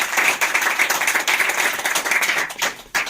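Audience applause filling the room, a steady dense wash of many hands clapping, fairly loud and continuous, fading briefly near the end.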